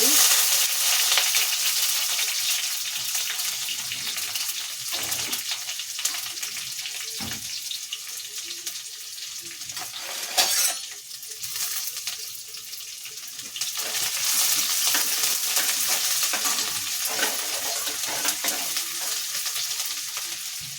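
Onion frying in a pan for a sprouted horse gram saaru, a steady hiss and sizzle with stirring scrapes, dipping briefly around the middle before resuming.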